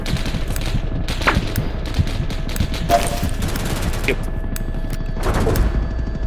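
Video game gunfire in BattleBit Remastered rattles steadily as dense automatic bursts and scattered shots, with occasional louder reports, forming a continuous battle din throughout.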